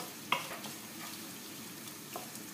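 Meat and onions being stirred together in a frying pan, a steady soft sizzle with one sharp utensil scrape near the start and faint stirring touches later, no voices.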